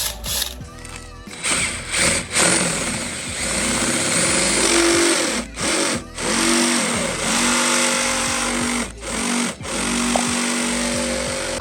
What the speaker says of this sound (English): It's time to do some drilling.